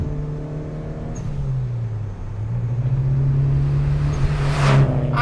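A Mitsubishi Evo rally car driven through a corner, its engine holding a steady drone that sags mid-turn then climbs again as it powers out, close and loud with a sharp burst near the end.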